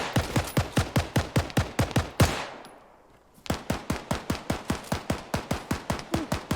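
Rapid automatic gunfire in the Arma 3 video game, Ukraine-conflict mod: a steady fast burst of sharp shots, a brief pause with a fading tail, then another long even burst, loud and close.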